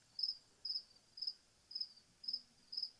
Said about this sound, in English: The crickets are louder than the fan.